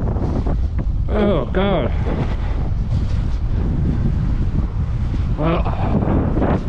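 Strong wind buffets the microphone throughout while riding a Giant TCR Advanced road bike in winter, a loud steady roar with brief spoken exclamations over it.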